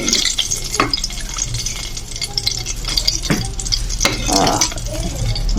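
Cooking oil for pork kaldereta sizzles and crackles in a pan while a utensil scrapes and stirs in several distinct strokes. The frying noise is close and fairly loud, with no talk.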